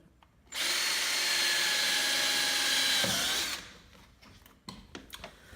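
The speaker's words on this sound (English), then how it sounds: "Making good progress on the drilling." A power drill drives into wooden studs while installing Woody's Studs, a loud steady whine for about three seconds before spinning down, followed by a few faint clicks and knocks.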